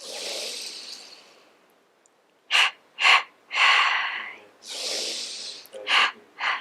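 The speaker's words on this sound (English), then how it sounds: "take deep breaths" A person breathing deeply, with long airy exhales and several short sharp inhaled gasps, close and alone with no talk.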